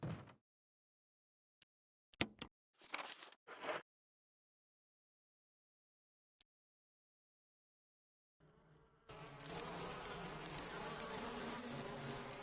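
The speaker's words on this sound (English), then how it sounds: "Chris, I swear to God, if you get stung to death by bees, I am going to laugh at you" Bees in the Resident Evil HD video game: short isolated buzzing bursts over silence, then a continuous loud swarm drone that keeps going to the end.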